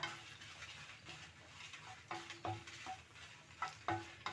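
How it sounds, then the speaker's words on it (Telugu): Dried red chillies fry in oil for a chutney, making a faint, soft sizzle with intermittent scraping and light clinks from a stirring spoon against the pan. "ఎండుమిర్చి బాగా వేగాలి"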